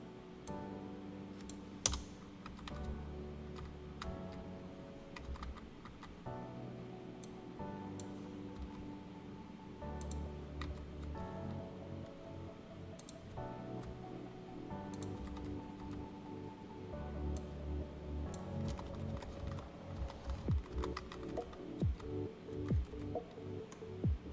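Keyboard keys clicking in a steady run of presses during Photoshop poster design work, close and fairly quiet over a low background hum.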